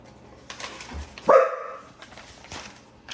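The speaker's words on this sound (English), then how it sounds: "That's my dog Rupert again." A single sharp dog bark rings out nearby, loud and brief, against quiet background noise.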